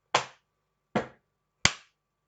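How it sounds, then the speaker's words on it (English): Three loud, close body-percussion hits, big claps and slaps on the legs, spaced evenly about a second apart and each decaying quickly, with no talking. "big clap, big slap on your legs to make big sounds."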